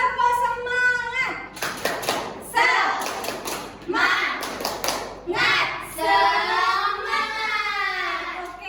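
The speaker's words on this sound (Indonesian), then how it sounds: "Ayo kita tepuk semangat sama-sama ya." A primary school class chants together in loud unison and claps in quick rhythmic bursts between the phrases of a group clapping cheer.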